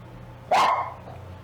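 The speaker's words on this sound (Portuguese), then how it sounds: "Os cachorros estão brigando aqui." One loud, sharp dog bark bursts out indoors at home among several dogs, then fades back to a low, steady room hum.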